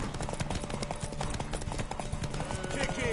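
Horse hooves clip-clop in a quick, rhythmic trot amid game sounds in The Witcher 3: Wild Hunt, with voices speaking over the top.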